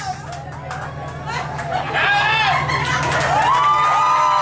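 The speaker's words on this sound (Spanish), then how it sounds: "Aplauso para el número uno, aplauso, aplauso, aplauso, aplauso, aplauso" A group aboard a yacht off San Andrés island claps and cheers for contestant number one, a lively close crowd with shouts and whoops rising over steady clapping and a low hum beneath.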